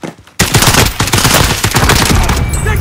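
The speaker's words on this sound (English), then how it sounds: "Taking fire." Sustained automatic gunfire from the Modern Warfare video game in a match with an FAL rifle: loud, dense rapid shots with heavy echo that last nearly three seconds after a brief quieter lead-in.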